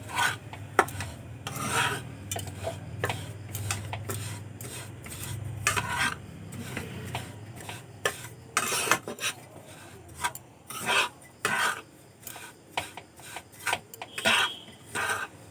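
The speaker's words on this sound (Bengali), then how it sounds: "কিছুক্ষণ আমি খুব ভালো করে নাড়াচাড়া করে নিয়েছি" Roasted semolina with cashews and raisins stirred in a pan for sooji laddu, a dry, rhythmic rasping scrape of a spoon against the metal, repeated in quick strokes with short pauses.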